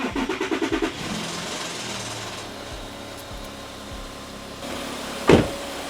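A VW 3-liter TDI diesel cranks with about eight rapid starter pulses, then catches and settles into a steady, rumbling idle. A sharp clunk sounds near the end, and no one speaks.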